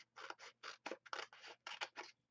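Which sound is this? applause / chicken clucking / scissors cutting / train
scissors cutting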